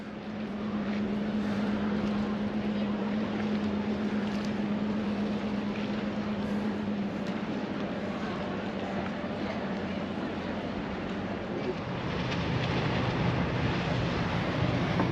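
A large boat is brought in and berthed at a south England coast harbour, its engine a steady low drone with a constant tonal hum, wind and water wash around it, and faint voices.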